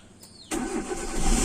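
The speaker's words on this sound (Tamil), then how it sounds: "இப்போது நான் காரை ஸ்டார்ட் பண்ணுறேன்." A car engine, on a car whose engine keeps running after the key is turned off, cranks and catches abruptly about halfway through, then settles into a loud, close, steady running note that rises slightly.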